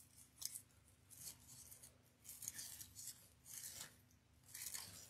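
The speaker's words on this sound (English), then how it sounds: "Right now I'm just cutting them down to about an inch and a half, 2 inches." Scissors snip repeatedly through pipe cleaners for a wreath craft, giving close, crisp cuts in an irregular rhythm of about five bursts over a low steady background hum.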